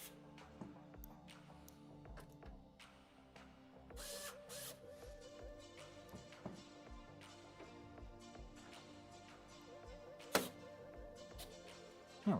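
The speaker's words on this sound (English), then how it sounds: "I like to start off with the corners and work my way to the rest of the screws." Screws being driven into a PC case during a build, a series of small ratcheting, whirring mechanical bursts close by, fairly quiet with occasional sharp clicks and no talk.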